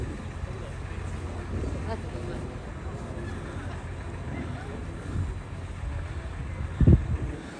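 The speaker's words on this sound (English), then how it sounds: "that was the wind whipping up." Gusty wind buffets the microphone outdoors in frosty Central Park, a steady low rumble with a sharper loud gust near the end, while faint voices murmur underneath.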